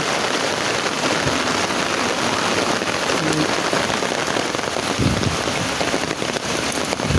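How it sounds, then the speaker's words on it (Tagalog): Heavy rain pours down steadily on a hillside neighbourhood during a rainy afternoon, a loud, dense, continuous patter on surfaces with no talking. "Sarap iligo sa ulan."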